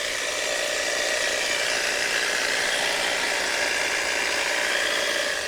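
A quiet battery-powered string trimmer runs at a steady pitch, giving an even, unbroken whir with no changes in speed.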